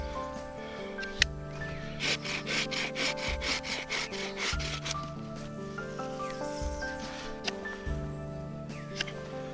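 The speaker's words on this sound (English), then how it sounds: "Next job is to make the handle, and for that I've got this piece of alder, and I'll trim that to length." A hand saw trims a piece of alder wood to length for a handle outdoors, a rapid run of rhythmic rasping strokes close by, with quieter rubbing and scraping around it.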